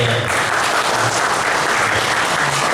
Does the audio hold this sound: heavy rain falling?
no